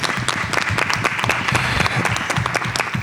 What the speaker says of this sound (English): So if we could just give the district a round of applause